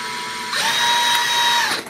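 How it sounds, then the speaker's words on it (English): A power drill bores holes in wood while a macrame wall hanging is assembled from Dollar Tree items, whining steadily for about a second and a half after a quiet start, close and loud, then cutting off. "So I can go ahead and start drilling my holes."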